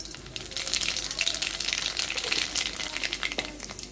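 Black cumin seeds hitting hot oil in a pan give a steady, close crackling sizzle with dense bright spitting throughout, no voices over it.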